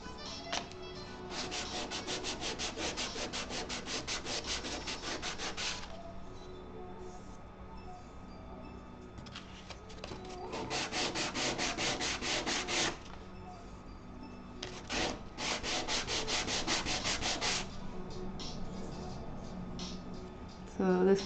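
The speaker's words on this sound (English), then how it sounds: "I need to sand out" Wood with deep saw grooves is sanded by hand with sandpaper in repeated bursts of brisk back-and-forth rasping, separated by quieter pauses. The sound is close and moderately loud.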